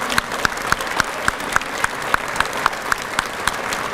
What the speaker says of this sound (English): Please give all of our cadets a round of applause and our guest award presenters for showing their generous support of our program